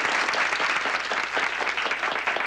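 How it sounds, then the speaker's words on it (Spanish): Applause from a studio audience on a comedy television show, brief continuous clapping at a steady, fairly loud level. "¡Un aplauso, señores!"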